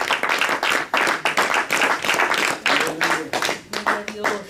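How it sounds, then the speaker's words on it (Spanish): Congregation at a Christmas church service claps together in a dense, steady burst of applause lasting several seconds, with voices mixed in beneath the clapping. "dale un aplauso al Señor."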